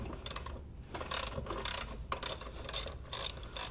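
A bolt being loosened from the transmission mount of a 2002-06 MINI Cooper non-S during clutch replacement, heard as a rapid, close ratcheting wrench clicking in repeated bursts with brief pauses.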